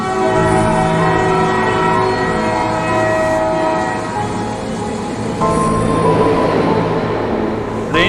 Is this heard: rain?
no